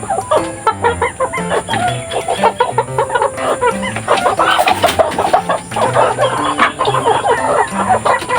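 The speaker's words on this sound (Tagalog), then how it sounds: "Meron din tayong bagong rooster para sa ating crossbreeding" A rooster clucks loudly and repeatedly close by, joined by other chickens clucking and squawking in a busy, continuous farmyard chorus.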